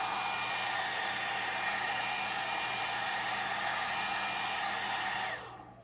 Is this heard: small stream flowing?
no